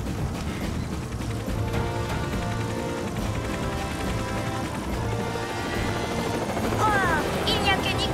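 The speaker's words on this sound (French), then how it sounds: "gâcher notre balade en hélicoptère" A cartoon helicopter flies with a loud, steady rotor whir, overlaid by music and effects, with a few rising whistling tones near the end.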